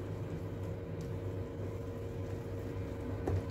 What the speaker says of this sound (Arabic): هاد الصوت اللي كتسمعوا راه غير الفرفارة ديال الفران.